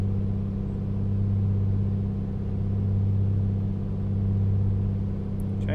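A simulated Piper Comanche 250 piston engine holds a steady run-up during a magneto check, a low, even droning hum with a constant pitch that continues alone without any talk.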